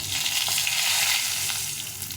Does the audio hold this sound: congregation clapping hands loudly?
no